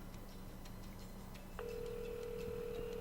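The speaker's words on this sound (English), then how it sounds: "It's ringing." A phone call placed live on a radio show, with a steady ringback tone starting partway through and holding at an even pitch. Faint ticking clicks come just before it.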